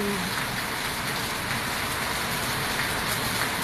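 Steady rain pours outdoors amid green countryside, a dense, even hiss that stays loud and unbroken throughout.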